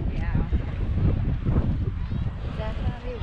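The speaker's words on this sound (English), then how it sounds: "I'm hoping the sound isn't going to be too horrible because it's windy today." Wind buffets an outdoor microphone in a park with basketball, volleyball and tennis courts, a heavy low rumble that swells and dips throughout while people talk over it.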